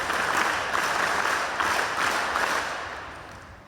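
School audience clapping in unison at an ashram school lab inauguration, a dense, even wash of applause with slight surges, tapering off near the end.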